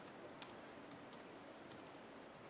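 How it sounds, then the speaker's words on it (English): Typing on a Bluetooth keyboard while operating an Android 3.0 Honeycomb Motorola XOOM tablet: quiet, irregular key clicks in small bursts over a low steady background hiss, no talking. "I'm actually typing this in with a Bluetooth keyboard off screen."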